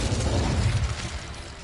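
Incendio fire spell in Hogwarts Legacy, a loud rushing burst of flame and rumble that swells at the start then tapers off over under two seconds, alone without speech.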